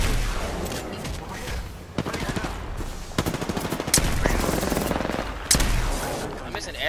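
Rapid automatic gunfire from the video game Apex Legends comes in dense, loud bursts and chattering volleys across the whole stretch, with brief gaps between strings of shots.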